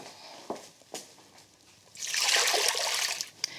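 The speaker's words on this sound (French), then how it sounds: "J'égoutte mes pommes de terre." Boiled potatoes are drained: a few soft clicks and drips, then a steady rush of pouring water lasting over a second before it trickles off, heard fairly close.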